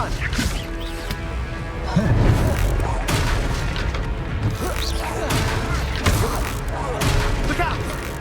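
Confringo fire spells exploding in the video game Hogwarts Legacy, a run of booming blasts and crashes mixed with game voices and a dense score throughout.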